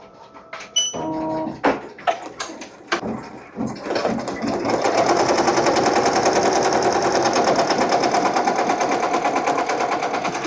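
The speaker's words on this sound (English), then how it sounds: "I'm going to embroider it straight through" An embroidery machine stitches through a tote bag in light blue thread. A few separate clunks come first, then a steady, fast mechanical chatter runs close and continuous to the end.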